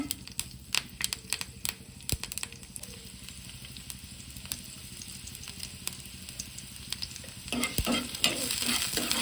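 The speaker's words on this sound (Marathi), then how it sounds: "थोडंसं कढीपत्ता टाकते" Curry leaves crackle and spit in hot oil, a dense, fairly faint sizzle with rapid pops that swells louder toward the end, heard close up with no voices.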